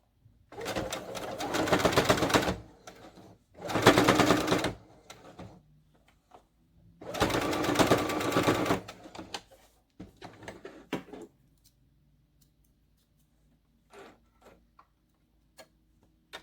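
A sewing machine stitching a homemade fabric mask, running in three loud bursts of rapid mechanical whirring, each lasting a couple of seconds, separated by pauses filled with small clicks and fabric handling, close by.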